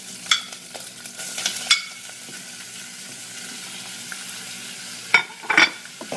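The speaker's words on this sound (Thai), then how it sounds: "ต่อไปเราก็ใส่กุ้งเลยนะคะ" Shrimp stir-fried with curry paste in a pan without coconut milk sizzle steadily and softly, broken by several sharp clatters and scrapes of a spatula against the pan.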